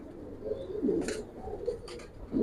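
Giribaz pigeons coo in a loft, several soft low coos close by with a few brief higher chirps between them, no talk.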